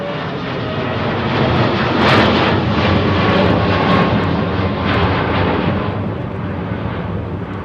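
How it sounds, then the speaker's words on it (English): A Boeing 777-9 jet airliner roars past at an air show flyby, its deep engine rumble swelling loud and broad before gradually fading, with no voices over it. "Here she comes, those huge engines."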